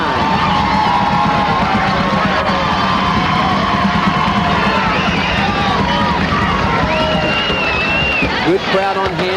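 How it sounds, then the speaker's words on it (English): A high school football crowd for the Seminole Warhawks cheers and yells steadily through a 2000 game against East Bay, a loud continuous roar of voices with whoops and shouts rising over the dense stadium noise. "The Seminole Warhawk crowd gets involved"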